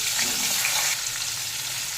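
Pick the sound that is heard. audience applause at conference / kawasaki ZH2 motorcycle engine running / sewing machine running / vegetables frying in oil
vegetables frying in oil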